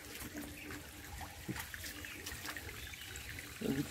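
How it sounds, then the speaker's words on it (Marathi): Water from mountain springs trickles along a hillside footpath in the Konkan, a faint continuous babble with small splashes and a slightly louder gurgle near the end. "आणि पाण्याची झरे बघा."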